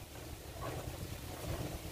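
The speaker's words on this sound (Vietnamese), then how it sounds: "Gió như thế này nè." Strong wind ahead of rain roars against the microphone outdoors beside a small wind turbine model, a dense, rumbling, continuous gust with no speech.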